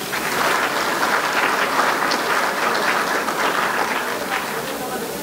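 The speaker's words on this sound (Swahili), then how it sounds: "Mjipigie makofi basi." Graduates at a graduation ceremony are met with dense, continuous applause from a large crowd, loud and sustained for several seconds, with voices mixed into the clapping.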